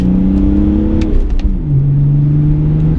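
A BMW E46 330 diesel tuned to about 260 bhp pulls hard in second gear at around 30 mph on a country B-road. Its close, steady engine drone drops in pitch midway, then holds.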